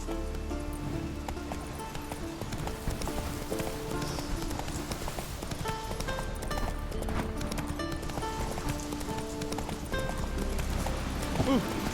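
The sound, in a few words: horse Roach galloping in The Witcher 3 video game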